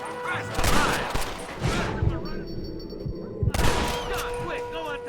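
Gunfire from a Red Dead Redemption shootout, sharp bursts of shots clustered near the start and again around the middle, mixed with game sounds and someone talking excitedly over the action.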